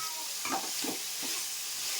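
Meat pieces stirred into hot oil tempering in a pan, a brief soft sizzle with three scraping stirs close by, no voices.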